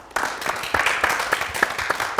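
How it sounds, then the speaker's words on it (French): Applause fills the clip after a brief quiet start: steady clapping from a crowd, with a few sharper claps standing out, fairly close and sustained. "monsieur Do Daïga, que je vous demande d'applaudir très fort"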